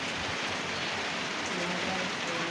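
Rain falling on a tobacco farm, a dense, steady hiss of drops hitting surfaces, constant and fairly loud throughout.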